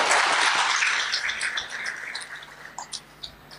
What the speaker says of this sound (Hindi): तो आप अपने लिए ताली बजाओ।